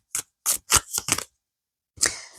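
Tarot cards being shuffled, a run of five quick, sharp riffling bursts followed by a pause and one more burst, close and clear with no talking.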